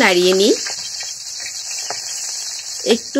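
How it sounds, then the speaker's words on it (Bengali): Green chilies and bay leaves frying in hot oil in a kadai, a steady hiss of sizzling oil heard close, with a voice speaking briefly at the start and end. "এখন আমি কাঁচা ঝাল এবং তেজপাতা ফোড়নটা তেলের উপরে দিলাম।"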